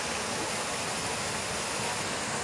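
Steady, dense rushing water fills the whole clip, a constant broadband roar of Rampa Waterfalls near Maredumilli heard from nearby, with no voices.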